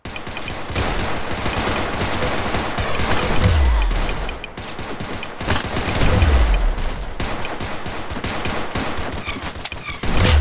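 Rapid bursts of gunfire from the Roblox game Arsenal, loud and dense, with sustained automatic fire broken by brief gaps and occasional low booms, dominating throughout.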